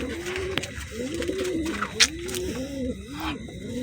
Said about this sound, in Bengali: পায়রা দুটো ছেড়েও দেখিয়ে দেবে নিচেই দেখুন।